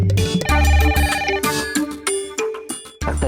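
A telephone ringtone plays a loud melodic electronic tune with repeating notes, filling the whole stretch with no talking over it.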